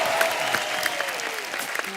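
A studio audience on a Hindi comedy talk show applauds loudly as a singer is welcomed to the stage, a dense steady clapping with music faintly underneath.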